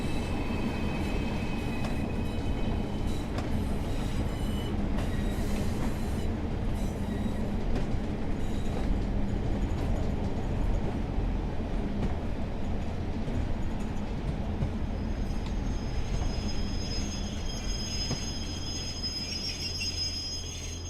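Brake van wheels squealing on the track in Train Sim World 4, a continuous rumbling rail roll with a high, sustained squeal riding over it, steady and close throughout before easing slightly near the end.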